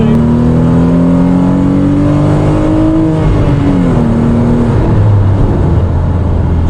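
A V6 engine swapped into a Renault Clio 182 revs hard with a rising, steady tone, then drops back to a lower idle-like rumble after a few seconds, loud and close.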